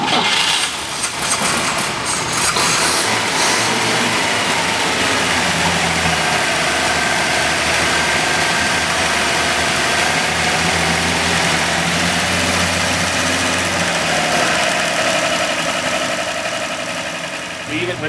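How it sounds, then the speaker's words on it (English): Rebuilt, rebabbited original engine of a 1951 Chevrolet 3100 pickup idling steadily, a low even rumble held close for the full length, with someone talking over it. "The original motor, completely redone, rebabbited, rebuilt completely."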